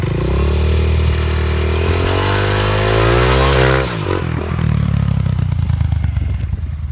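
A dirt bike engine runs loud and close, its pitch climbing as the clutch is let out, then dropping briefly before the motor picks up again and keeps revving steadily.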